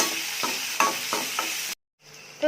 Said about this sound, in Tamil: கடுகு பொரிஞ்சது வெங்காயம், பச்சை மிளகாய் நல்லா வதக்கி எடுக்கலாம்.